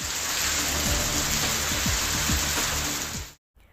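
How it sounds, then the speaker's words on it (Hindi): Torrential rain hits the streets of Tiruchirappalli in a loud, constant wash with faint low rumbles of passing traffic underneath, then cuts off abruptly near the end. "तिरुचिपल्ली शहर के कई इलाकों में मूसलाधार बारिश हुई।"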